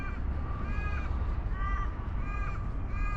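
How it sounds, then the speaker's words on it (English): Crows caw repeatedly at a beach beside a rock wall and mangroves, four evenly spaced harsh calls rising over steady wind and surf noise. "The reason I come here was because of all those birds."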